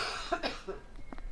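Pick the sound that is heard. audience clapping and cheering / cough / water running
cough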